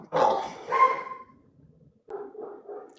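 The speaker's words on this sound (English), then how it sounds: "the dog outside barking" A dog barks outdoors in two quick close yaps, then a softer, lower run of three barks after a short pause.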